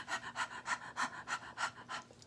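A person's voice imitating a dog panting, eight quick rhythmic breathy huffs in an even pattern, close and fairly quiet, with no other sound around it.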